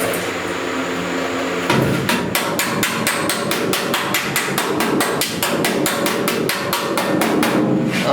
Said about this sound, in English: I'm doing some hammer on dolly,